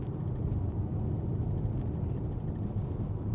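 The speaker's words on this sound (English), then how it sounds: "There is faint tyre and wind noise, but on a smooth road, it's a little bubble of calm." Inside a 2020 DS3 Crossback E-Tense electric SUV on a smooth road, a soft steady hum of tyre roll and wind noise carries on with no engine sound and no talking.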